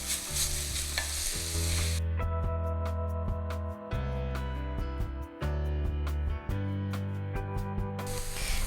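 Onions fry in olive oil in a pan with a close, steady sizzle and occasional stirring scrapes, partly beneath a tonal background hum.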